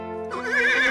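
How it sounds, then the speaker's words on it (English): A single zebra call: a short, loud, wavering whinny-like cry that swells up from a steady tone within about a second, heard alone and close. "Zebra."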